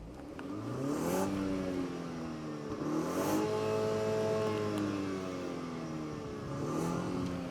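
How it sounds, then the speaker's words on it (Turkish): A 2023 BMW 320i Sedan M Sport (G20) engine revs up several times while in park, each rise in pitch swelling and then falling back to a steady idle. "Gaza basabilirsin. Birkaç kere bas çek gaza."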